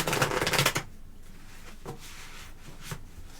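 A tarot card deck being tap-shuffled and cut, with a dense burst of riffling cards at the start, then a few separate soft taps and slaps at the table, close and alone.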